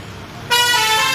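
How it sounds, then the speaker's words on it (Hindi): Road traffic with a vehicle horn suddenly blaring loud and close, a sustained honk cutting in over a low engine rumble of passing cars and buses near a home on a busy road. "गाड़ियों का शोर आता है"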